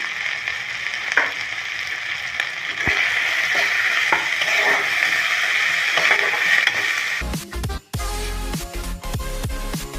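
Spice masala with chili powder and a little sugar sautéing in a pan gives a steady hissing sizzle. Stirring scrapes and clatters punctuate it, and the sound turns busier and more clattery toward the end.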